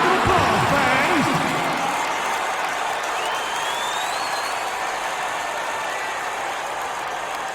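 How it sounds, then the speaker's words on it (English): In an NBA 2K12 basketball game, a steady crowd roar with applause fills an arena, loudest at the start and easing slightly, with a faint tonal swoop in the background. "Give them a round of applause, fans."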